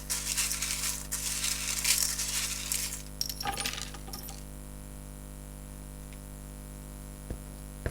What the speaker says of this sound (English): I shuffle or mix up the charms